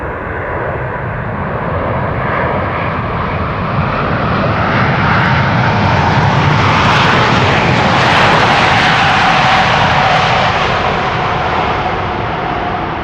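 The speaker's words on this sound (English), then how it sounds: "That is the second consecutive day that we have seen the A380 land on the runway we were filming next to." An Airbus A380 landing at Amsterdam Schiphol Airport, its engines a loud, sustained roar that swells as the jet passes near the runway and stays dense throughout.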